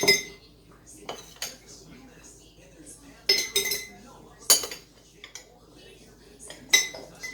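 Metal scoops clinking against a jar and dishware while frozen vegetables and carrots are spooned in, a series of sharp irregular clanks and rattles up close, with quiet pauses between them.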